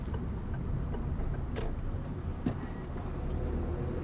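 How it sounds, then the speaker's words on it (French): A car's turn-signal indicator ticks steadily inside the cabin during a driving lesson, faint clicks over the low hum of the engine and road noise. "Tac, tac, clignotant."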